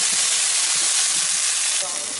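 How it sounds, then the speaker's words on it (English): Steady sizzling of peppers frying in a hot pan, a dense continuous hiss with faint crackles, close and fairly loud. "Go ahead and drop the peppers into the pan."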